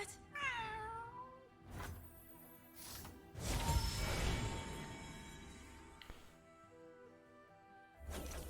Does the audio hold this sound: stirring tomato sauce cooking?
no